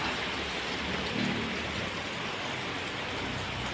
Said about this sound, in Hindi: आज बारिश हो रही है।